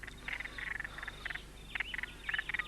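A frog croaks in short repeated bursts over a constant background hiss, faint and somewhat distant, with no voices.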